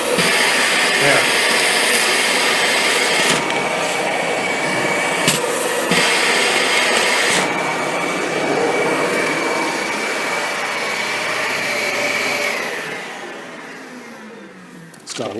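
A Dyson DC65 vacuum cleaner runs at close range with a loud, steady rushing roar that holds for several seconds, then drops away near the end.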